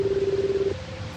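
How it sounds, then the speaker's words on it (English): A telephone ringing in a horror story: one steady warbling electronic ring tone that stops partway, leaving a faint hiss, loud and close. "The phone rang."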